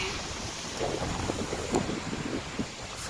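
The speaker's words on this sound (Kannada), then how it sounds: "ನೋಡಿ ಗಾಳಿ ಹೇಗೆ ಬರ್ತದೆ ಗೊತ್ತಾ, ತೋರಿಸ್ತೀನಿ ನೋಡಿ." Cold, strong December wind in a village blows steadily outdoors, a constant rushing roar with gusty buffeting against the microphone.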